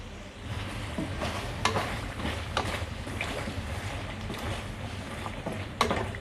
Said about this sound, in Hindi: अब गोश्त की हम अच्छे से भुनाई करेंगे